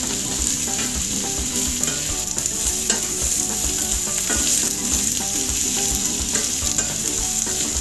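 Four medium potatoes, cut and washed, sauté with onions in a pan, giving a steady close sizzle and frying hiss with repeated scraping stirs throughout and no voices.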